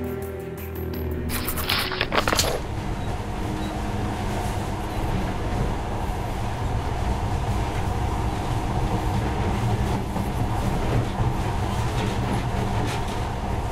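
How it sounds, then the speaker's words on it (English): A monorail train in Metro: Last Light runs steadily with a continuous rumbling, rattling rail drone, after a brief burst of sharper mechanical noise at the start. "In the past, trains were ordinary things, but now, this monorail seems magic, doesn't it?"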